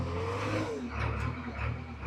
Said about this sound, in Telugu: మనం అయితే 19 మోడల్ బండి అయితే స్టార్ట్ చేస్తున్నాం. ఇక చూద్దాం దీనికి ఉంటుందో. బండి ఇంజన్ సౌండ్ అయితే జబర్దస్త్ ఉంది